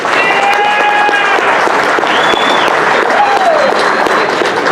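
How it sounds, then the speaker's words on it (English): An audience applauding at a hacking talk, a loud, dense wash of clapping that continues without a break, with a few whistles rising above it. "Let's give them a big round of applause"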